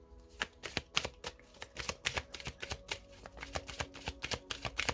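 A deck of tarot oracle cards being cut and shuffled, with rapid crisp riffling flicks in quick irregular bursts, close and fairly quiet, no voices.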